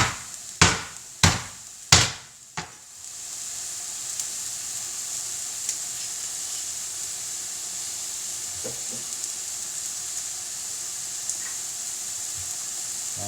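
Garlic cloves get smashed with a kitchen object while cooking home-style chilli: four sharp, loud thuds land in quick succession, then a steady frying sizzle hisses on alone.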